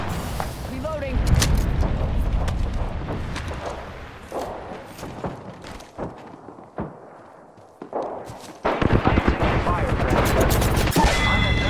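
A video game firefight with rapid bursts of gunfire, explosions and cracking shots over a rumbling bed, voices talking throughout amid the chaos.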